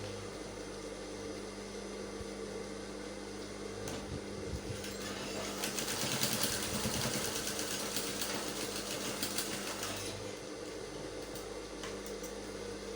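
A sewing machine runs a continuous stitching hum while a seam is sewn on a pair of pencil trousers, building louder through the middle stretch and then easing back, close by, with no speech.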